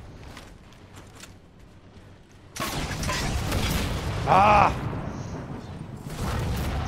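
A fuel rod cannon fires at a tank in Halo 4 multiplayer with a sudden heavy burst, followed by a sustained roar and a bright warbling energy whine, with background rumble before it and a short shout from a player.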